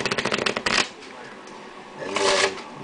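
Quick riffling flutter of cards being shuffled, then a pause and a second shorter riffle, close and crisp.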